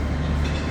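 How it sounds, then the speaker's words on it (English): A Trans-Pennine passenger train pulls away from Lee Green station with a steady low rumble, close and loud, running alone without talk. "And that train will fly now"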